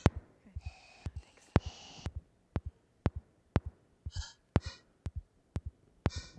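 Sparse, breathy synthetic noises generated by a computer model of human vocal signals: sharp clicks at an irregular beat mixed with brief hissy, whispery bursts, mostly quiet with gaps between.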